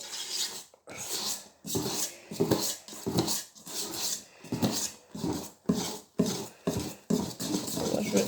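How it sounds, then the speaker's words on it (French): Madeleine batter with baking powder is stirred in a bowl, with rhythmic strokes scraping and knocking about once or twice a second, each burst separated by short gaps, close and moderately loud. "Faut bien remuer."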